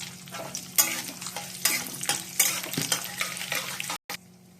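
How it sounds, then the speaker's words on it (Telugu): Tempering of dals, mustard seeds and red chilli frying in groundnut oil, heard up close as a bright, crackling sizzle with bursts of spatter and stirring scrapes, which ends abruptly near the finish and leaves a faint hiss. "రెడ్ చిల్లీ కూడా వేసి వేయించుకోవాలి పోపు"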